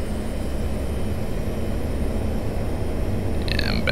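Three engines of a Boeing 727 in Flight Simulator X spool up toward takeoff thrust, a steady, loud broadband roar that holds an even level throughout, with faint high whine and brief clicks near the end.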